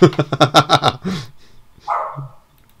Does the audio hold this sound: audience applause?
no